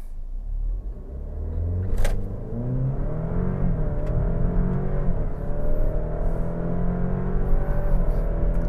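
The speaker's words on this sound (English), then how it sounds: "I'm going to test the acceleration with the Stelvio Veloce" A 2022 Alfa Romeo Stelvio Veloce with a four-cylinder engine launches hard from a standstill, its engine note climbing loudly through the gears with a deep rumble and rising whir, close and continuous.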